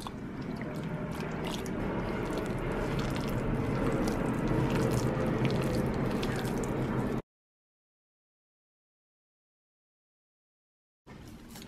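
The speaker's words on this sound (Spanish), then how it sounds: "Voy a ir amasando con leche de almendras." Bean dough for gorditas being kneaded by hand with almond milk, giving a steady, close, wet squishing and squelching for about seven seconds, then silence before the soft squishing resumes briefly.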